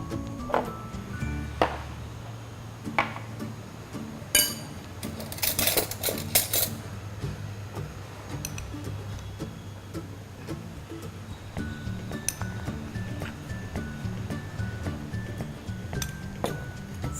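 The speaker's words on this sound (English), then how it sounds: "Now with the remaining vegetable stock, I'm going to mix the corn flour in this." Spoon stirring corn flour into vegetable stock in a bowl, light clinks and taps against the side scattered through a quiet background, a brief louder clatter in the middle.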